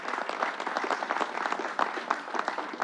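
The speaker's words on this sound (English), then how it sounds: "Let's give Northwell a round of applause" Steady crowd applause from an audience at a speech honoring a Long Island health system, a dense wash of clapping holding at an even level with no voices over it.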